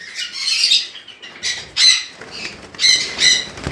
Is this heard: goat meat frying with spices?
no